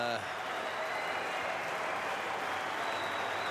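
A crowd at the Gabba cricket ground rises to applaud and cheer Steve Waugh, a steady, dense wash of clapping from a large stadium audience sustained throughout, with a voice briefly heard at the start.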